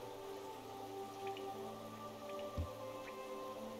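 Rain falls steadily in Hollow Knight. It makes a soft, even patter with scattered drips and one low thump, and no one speaks.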